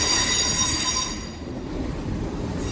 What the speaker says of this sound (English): Arriving in now is the 1346 Great Western Railway service from Weston-super-Mare to Severn Beach.